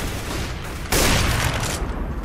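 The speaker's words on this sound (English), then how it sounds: "Throwing flashbang!" A flashbang grenade going off in a shooter video game, a sudden loud burst of broadband noise that holds for over a second over low game background, with no voices.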